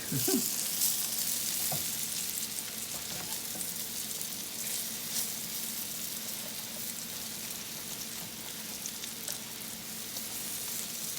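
Salmon or mackerel patties fry steadily in a pan, a dense continuous sizzle with crackling pops throughout, close and fairly loud, with no talking.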